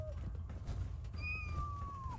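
A cat meows close by in a couple of short, clear cries, the last drawn out and falling, over a low steady background hum.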